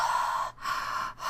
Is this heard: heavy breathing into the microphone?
yes